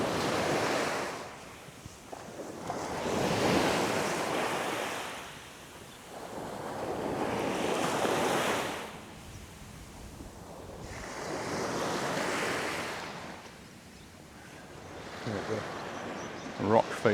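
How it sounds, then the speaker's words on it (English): Ocean waves crash onto the shore at Puerto Portals, Mallorca, surging in broad repeated swells every few seconds, some breaking against retreating water, steady and fairly close with no talk. "Really quite some of the waves are crashing as they meet waves that are"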